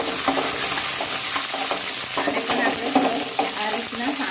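Green chillies sizzle and crackle in hot oil, a constant loud frying hiss broken by scraping stirs of a spoon against the pan.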